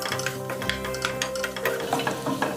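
A spoon stirs tomato and onion masala in a hot pan, giving rhythmic scraping and soft sizzling close up, with no talk.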